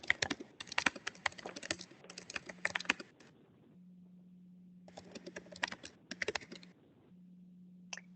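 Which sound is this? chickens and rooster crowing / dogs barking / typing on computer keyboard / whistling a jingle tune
typing on computer keyboard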